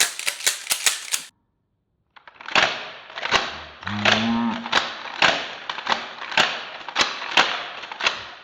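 Shotgun shells being unloaded by hand, giving a run of sharp, evenly spaced metallic clicks and clacks, close and fairly loud, with a short pause partway through and a brief low hum under the later clicks.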